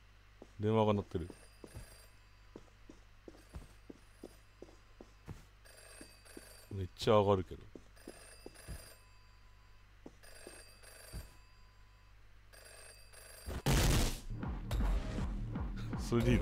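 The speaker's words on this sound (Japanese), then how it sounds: "電話が鳴ってる。" Telephone ringing in the first-person action game Anger Foot, repeated bursts of electronic ringing with pauses between them, followed by a loud crash near the end, while someone talks in Japanese.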